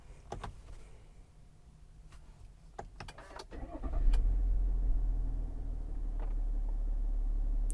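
A 2021 Chevrolet Tahoe Premier starts up after a few soft interior clicks and thumps, its engine catching with a brief crank and settling into a steady low idle heard from inside the cabin.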